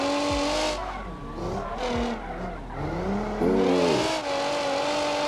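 Racing game car drifting on sport tires, engine revving steadily as tires squeal in sustained pitched whines that bend and shift, with a brief exclamation from a player over the game sound.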